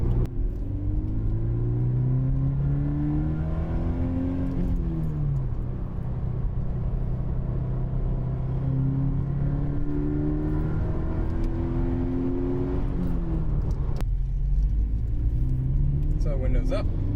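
A Toyota GT86 with a TRD sound changer fitted revs its engine in long rising and falling sweeps over a steady low rumble, heard from inside the car.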